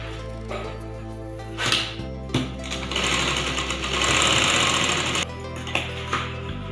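A sewing machine stitches the straight side seam of a katori blouse, running in a steady whirring burst for a few seconds between short starts and stops, close and loud with no talk.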